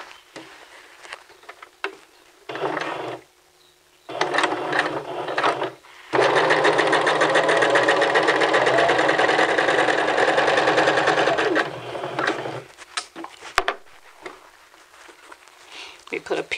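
A sewing machine stitches a seam down a men's vest, running in short bursts and then one long steady whir of about six seconds, close and loud, with quiet pauses between runs.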